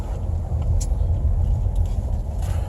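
Steady low rumble of cars and trucks rolling through a COVID-19 checkpoint on Interstate 10 in Florida, continuous and fairly close, with faint higher clinks now and then and no voices.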